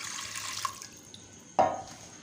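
Water poured into a pressure cooker for cooking half a kilo of mutton, a brief close splash and gush rising sharply then tapering into a short trickle over a quiet kitchen background.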